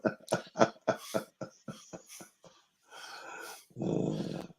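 A puppy makes a string of short, sharp yips and snorts during a podcast recording, followed by breathy, growly sounds. The sounds are close and clear, with no talking.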